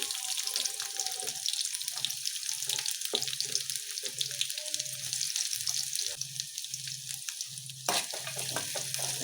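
Cumin and a small onion fry in a pan, a dense bright sizzle carried throughout, with repeated low thumps and scrapes of stirring in an uneven rhythm and a sharp clatter near the end, no talk.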